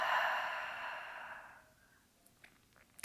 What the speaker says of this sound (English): Hold the breath. Open mouth, exhale.